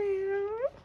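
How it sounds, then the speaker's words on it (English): A cat lets out a single drawn-out, wavering meow close by in a resin workshop, rising in pitch at the end before trailing off, heard alone. "listen to the cat."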